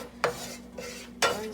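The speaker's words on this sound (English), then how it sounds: "So we're gonna go ahead and saute our onions." Onions sauté in a pan as a utensil scrapes and stirs, making two sharp scraping strokes and a softer one over a quiet background sizzle, close and distinct.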